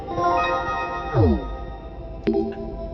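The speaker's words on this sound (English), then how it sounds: "while a harpsichord has the strings plucked." Plucked harpsichord notes from the game Zero Escape: Zero Time Dilemma ring out in a bright, thin, metallic tone, with a quick descending run and a few sharp plucked accents afterward.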